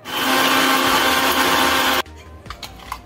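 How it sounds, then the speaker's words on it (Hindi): A loud, whirring mixer-grinder jar grinds spices including cumin and red chili for about two seconds, then cuts off abruptly, leaving faint clatter and rattling. "इसे भी हम ब्लेंड कर लेंगे।"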